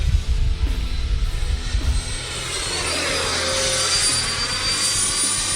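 A jet-style RC plane flies past, its turbine whine rising and sweeping in pitch with a Doppler shift as it passes, loud and continuous with rumbling at the start.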